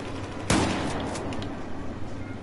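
A single sharp shotgun blast in Battlefield 4 online play rings out near and loud, followed by a decaying echo and low ambient battlefield rumble.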